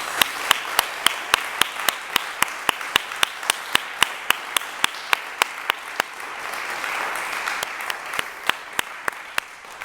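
Sustained audience applause for the cast of a This Is My Brave New Hampshire storytelling performance, a steady crowd of hands clapping in a broad, even wash, with several sharp close claps standing out regularly throughout.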